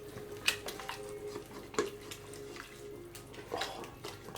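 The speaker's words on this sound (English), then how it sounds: "we take our beef stock, dump all that shit right in there, and now's the moment where you scrape the bottom of the pan" Scraping a pan bottom to lift fond after beef stock is poured in for cottage pie: a few sharp scrapes and clinks over a watery, bubbling bed, moderately quiet with no voices.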